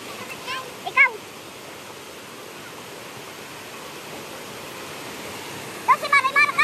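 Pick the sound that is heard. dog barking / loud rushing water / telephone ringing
loud rushing water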